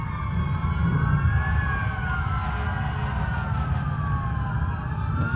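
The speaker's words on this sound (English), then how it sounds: "These sirens" Emergency vehicle sirens wail and sweep continuously at moderate distance during an early-morning Honor Flight welcome in Plattsburgh, over a steady traffic rumble.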